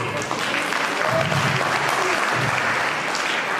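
Steady applause from an audience at a talent award ceremony held in December 2021, continuous and fairly loud clapping filling the whole stretch without pause.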